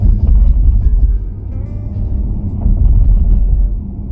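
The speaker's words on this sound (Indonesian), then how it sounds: "rasanya nyetir BMW i5 ini di tanah Indonesia, bukan tanah, aspal Indonesia" A BMW i5 driving on Indonesian asphalt gives a loud, steady low cabin rumble with road and wind noise, heard from inside, continuous and without speech.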